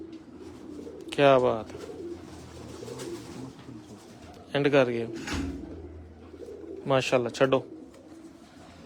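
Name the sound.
pigeons cooing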